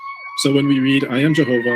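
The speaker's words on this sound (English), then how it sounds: "sorry for the sirens in the background" Wailing emergency sirens sound in the background, steady and continuous, beneath someone speaking close up.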